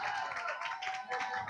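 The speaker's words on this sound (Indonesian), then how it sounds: "Beri tepuk tangan" Light, scattered clapping from a small crowd at a school debate semifinal, brief and moderately close, with a faint steady tone underneath.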